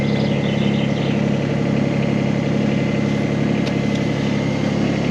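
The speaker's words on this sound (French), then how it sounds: "une fois que j'ai mis le contact, je peux tourner la clé complètement" A mini excavator engine runs at a steady idle, a constant loud close diesel drone with no break and no talk.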